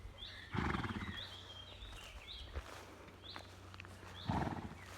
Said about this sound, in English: That's our donkey, Percy.